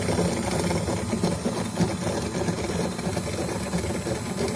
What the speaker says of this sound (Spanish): la bomba de desagüe